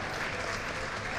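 A conference audience breaks into steady, dense applause, many hands clapping together at full volume throughout.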